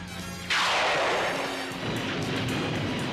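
A heavy cannon boom erupts suddenly and rolls into a sustained roar of blasts and crashing, loud and close, with a rumbling background continuing throughout, in a cartoon battle.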